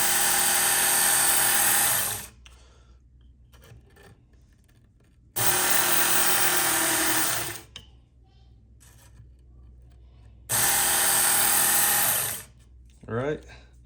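A Work Sharp MK2 belt knife sharpener runs in three bursts of about two seconds each as a blade is ground on the belt, a loud high whirring rasp that stops abruptly between passes, with brief quiet gaps.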